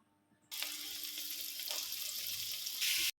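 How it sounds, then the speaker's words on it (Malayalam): Chopped onions drop into hot oil for kothu chapati, setting off a steady, bright sizzle that starts abruptly and holds loud and close for the rest of the moment, with no voices. "നമുക്ക് കൊത്തി അരിഞ്ഞ് വെച്ച് സവാള ഇട്ട് കൊടുക്കാം"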